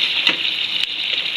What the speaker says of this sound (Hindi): प्याज साड़ा फ्राई हो रहा है